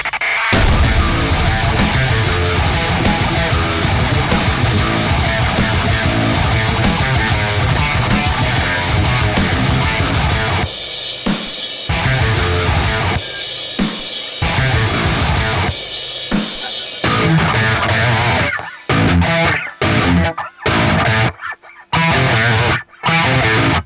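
Heavily distorted electric guitar riff built from chopped-up pieces of an earlier riff, dense and loud with a full backing mix, breaking into stop-start gaps and abrupt silences toward the end.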